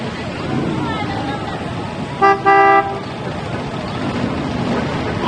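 An antique car in a Memorial Day parade gives a short double honk, two quick toots standing out over the steady street noise of the passing parade, with a voice talking.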